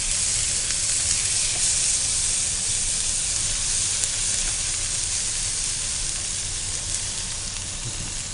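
Onions fry lightly with garlic and ginger-garlic paste in a pan for an Andhra chicken fry, giving a steady, close, even sizzle and hiss throughout with no talking.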